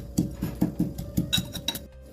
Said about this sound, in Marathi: आता आपण मिरच्या लसूण व मीठ घेतलेलं कुटूया